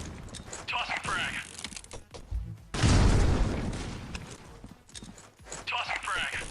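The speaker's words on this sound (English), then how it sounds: "Tossing frag." A frag grenade detonates in a video game with a loud, rumbling blast that tails off over a few seconds. Mechanical game clatter runs around it, and a voice talks throughout.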